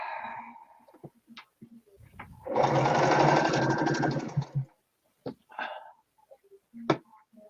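A domestic sewing machine running while quilting, a loud, fast mechanical whirr lasting about two seconds, set between scattered clicks, handling knocks and brief sounds of a person.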